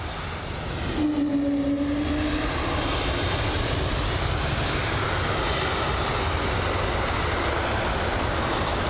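A Lufthansa A320neo arriving from Frankfurt lands at London Heathrow, its engines a loud, sustained roar with a brief whining tone early on, heard without any talking.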